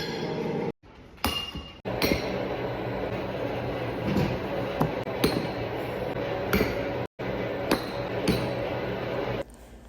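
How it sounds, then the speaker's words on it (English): Thick 3/8-inch float glass plates being cut, with sharp clinks and ticks of the glass over a steady background hum, interrupted by brief silences. "So sit back and enjoy this ASMR as I cut the glass plates."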